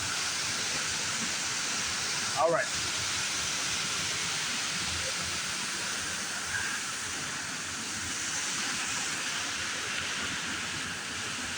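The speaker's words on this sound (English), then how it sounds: "Wow, look at those waterfalls, huh?" Mambukal waterfalls in Murcia, Bacolod, Philippines, produce a steady, broad roar of rushing water that fills the whole scene at moderate level, with a brief spoken remark near the start.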